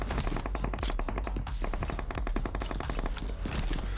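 Gunfire in PUBG Mobile on a Bedwars-style map, with rapid automatic bursts of machine-gun fire rattling almost continuously and loudly throughout.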